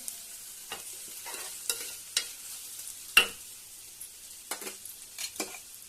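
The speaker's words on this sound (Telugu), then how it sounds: "అల్లం వెల్లుల్లి పేస్ట్ వేసానండి. ఇప్పుడు ఈ విధంగా కలుపుతున్నానండి" Ginger garlic paste sizzles softly in a frying pan as a spoon stirs it, with a series of scattered scrapes and light clinks against the pan, one sharper knock standing out midway.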